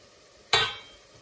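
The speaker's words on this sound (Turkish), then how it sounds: "Şimdi pastırmaya bir miktar zeytinyağı ekliyorum." Pastırma meeting olive oil in a hot pan: a sudden sharp sizzle bursts up, then fades into a softer, steadily crackling hiss over about a second, with no voices.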